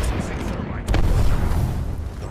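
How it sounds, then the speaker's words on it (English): A frag grenade blows up in Apex Legends, a sudden booming burst that rolls into a sustained rumble, loud and close, with game voice lines around it. "Delivering frag. Frag out."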